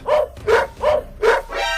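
A cartoon dog barks four times in a quick, even rhythm, loud and close, each bark short and bright, with a trailing whine at the end.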